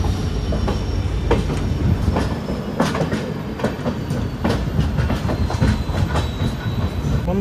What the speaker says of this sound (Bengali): আর আমাদের ট্রেন এখন ছেড়ে বেরালো নিউ জলপাইগুড়ি জংশন